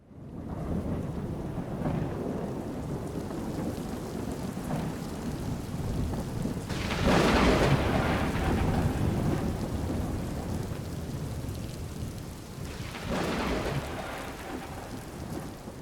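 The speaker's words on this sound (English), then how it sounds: "Hey, do you hear thunder?" Steady rain pours throughout while rolling thunder swells in two loud bursts, one around the middle and another near the end, with no voices present.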